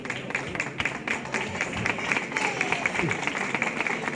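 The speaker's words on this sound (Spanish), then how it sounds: "Un aplauso para ellos." Audience at a poster presentation for the Arcos living nativity scene applauds for the mayor and festival delegate, with irregular close claps mixed with crowd noise and some voices, moderately loud.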